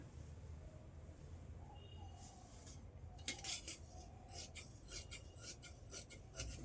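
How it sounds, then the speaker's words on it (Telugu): Scissors snip through blouse fabric while cutting out the sleeves, giving a series of short crisp rasping cuts over a quiet room hum, close by and fairly soft, with no talking. "హ్యాండ్స్ కట్ చేసుకుందాం ఇప్పుడు."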